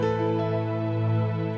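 A Yamaha MODX synthesizer plays a sustained scene patch, a steady layered tone holding evenly at moderate loudness for the whole moment with no voices.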